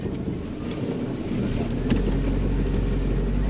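A car engine hums and rises slightly as the car is put in reverse and backs up on a narrow street during a driving lesson, a steady close rumble with a few faint clicks.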